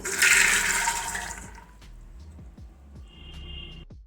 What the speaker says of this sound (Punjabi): ਤੇ ਇਹ ਛੋਲਿਆਂ ਨੂੰ ਆਪਾਂ ਹੁਣ ਧੋ ਲਵਾਂਗੇ